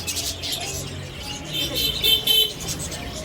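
Pigeons coo and small birds chirp in a bird shop, a busy mix of close tweets and soft cooing with brief bright calls over a low background hum.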